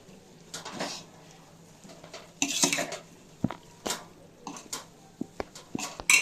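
Raisins and cashews dropped into freshly made sweet boondi in a metal pan, giving scattered light clinks and soft patters of utensils and dishes with irregular sharp taps, fairly close and alone.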